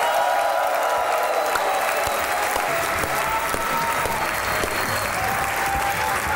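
Studio audience at a Pakistani TV talk show applauds steadily to welcome actors Noman Habib and Asma Noman, a dense, unbroken wash of clapping that holds at full strength from start to finish with no voices over it.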